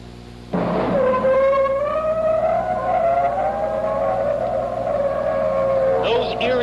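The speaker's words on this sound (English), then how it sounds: "It was, in fact, an amplified, humpbacked whale." A loud, drawn-out humpback whale song, amplified, rises abruptly and holds as an eerie moaning tone that slowly bends in pitch, with a brief squeal at the end.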